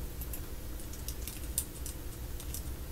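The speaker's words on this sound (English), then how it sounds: "So I'm going to go ahead and type that in." Soft keystrokes on a computer keyboard patter steadily over a low background hum, close and fairly quiet.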